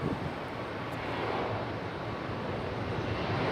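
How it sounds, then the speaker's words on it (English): An American Airlines Boeing 737 taxiing at Raleigh-Durham airport produces a steady, broad roar of jet engine noise, fairly close and unchanging, with light wind rumble and no voices. "American Airlines 737 on the move."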